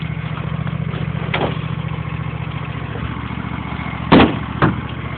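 Vehicle engine idling steadily after a cold start in spring, a low even rumble close by, with a couple of brief louder bursts toward the end.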